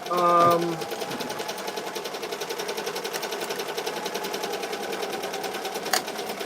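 A Ricoma EM-1010 embroidery machine stitches steadily, a fast, even mechanical chatter running throughout at moderate volume, with a person talking briefly at the start.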